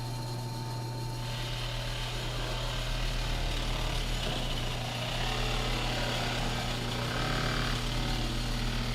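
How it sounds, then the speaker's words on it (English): A drill plunges a wave-cutting Forstner bit into wood, a continuous droning whir with a steady low hum that holds at an even level throughout. "Forstner bit, but it's a wave cutting Forstner bit."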